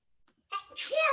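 A single short sneeze from a child in an online class, a brief inhale followed by a sharp burst, heard close to the microphone.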